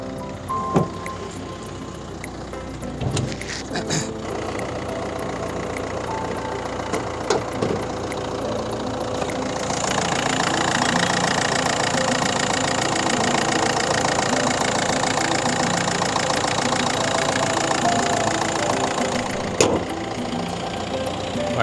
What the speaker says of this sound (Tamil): வண்டியோட இன்ஜின் நாய்ஸ் காட்டுறேன் இருங்க.